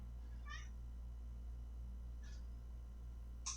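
A cat meows three times, short harmonic cries spaced apart over steady low background hum, fairly close and clear with no talking.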